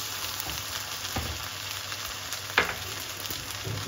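Chopped onion, cumin and ginger-garlic paste sizzle continuously in a pan, with a few soft stirring scrapes and one sharper clink partway through; no one speaks.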